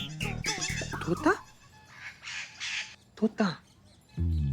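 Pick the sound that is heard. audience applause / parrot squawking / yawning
parrot squawking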